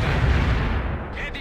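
Heavy artillery fire support in the video game World in Conflict, a continuous low rumble of booming barrages that stays loud throughout, with the heavy roar easing slightly near the end.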